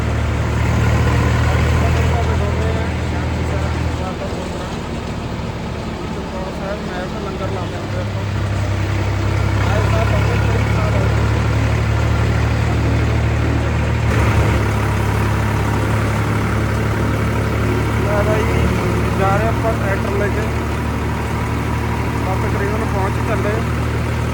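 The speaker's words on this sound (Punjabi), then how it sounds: "ਇਹ ਪਿੱਛੇ ਜਨਰੇਟਰ ਆ" Generator droning behind a langar at Chamkaur Sahib, a steady low engine hum running the whole time beneath people talking nearby.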